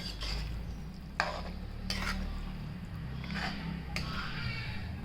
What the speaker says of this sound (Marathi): हा टाकायचा आहे सर्व मिक्स करून घ्यायचं आहे